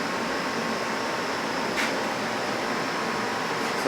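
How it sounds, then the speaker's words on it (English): An indoor air conditioner runs with a steady, broadband whooshing hum at an even level throughout, with no talk and only a faint brief click partway through. "AC working, running."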